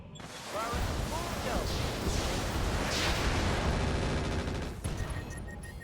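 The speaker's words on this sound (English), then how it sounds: "Actually, we did get a big ammo explosion there." An ammo explosion erupts in the mech combat game RogueTech, a loud, dense burst of crackling blasts and rumbling debris that sustains for several seconds before tapering off.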